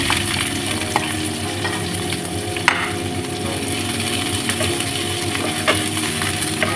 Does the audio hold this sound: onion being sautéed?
yes